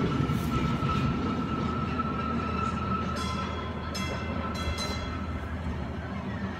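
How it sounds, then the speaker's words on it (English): A small toy train runs continuously at close range, giving a steady rolling rumble with a thin whine and a few brief clicks, and no clear speech. "It's the toy train,"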